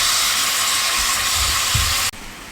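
Beef for a spicy stew sizzles in a hot pan with a dense, steady hiss that cuts off abruptly near the end, leaving a quieter background.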